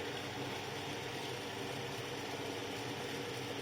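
A lathe's electric motor hums steadily without a break, an even mechanical whir with a faint vibrating buzz and no voices.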